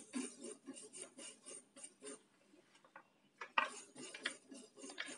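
Mustard seeds, white or black, spluttering in hot oil over a low flame while making Andhra-style mango pickle: a dense run of small crackling pops and ticks, fairly close, with a sharper burst of popping partway through and no talk.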